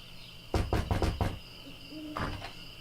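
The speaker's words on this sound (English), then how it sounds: "I think I'll knock." Knocking on a door in the video game Monkey Island: a quick run of four hollow knocks, a pause, then two more knocks, fairly close and alone without voices.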